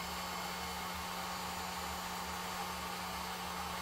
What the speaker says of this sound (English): Let me just give it one more heat with the heat gun.